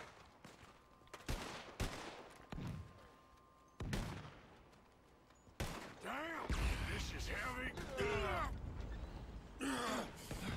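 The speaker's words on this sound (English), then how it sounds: "A fucking cannon over his head." Cannon fire booms in the Red Dead Redemption 2 video game, with several loud blasts and rumbling impacts spread through the scene while people talk and shout over the battle.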